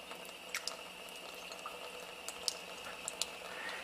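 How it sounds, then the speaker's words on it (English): Water from an ionizer spout trickles into a test tube, a faint steady pouring wash with occasional small splashes and drips, quiet and close, with no talking. "We'll fill the tube up about half again."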